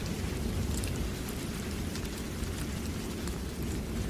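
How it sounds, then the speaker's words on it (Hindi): Steady rain falls on a bamboo bridge in a village, a dense, even patter that holds without a break and with no voices. "गांव में चारों तरफ बारिश की बूंदें टप टप गिर रही थी।"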